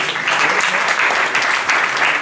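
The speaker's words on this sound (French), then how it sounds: "On peut l'applaudir." A dense crowd applauds steadily at a casino anniversary gala in Salies-de-Béarn, the clapping loud and sustained throughout, with no pause or fade.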